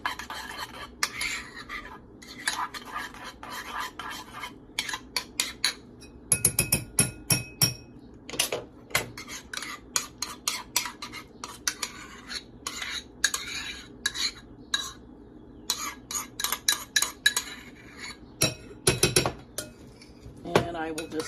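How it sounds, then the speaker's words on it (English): Yogurt and mayonnaise dressing for potato salad is stirred in a bowl with a utensil, giving repeated clinks and scrapes in irregular bursts, close and clear, with no talking. "And I will just stir all this together"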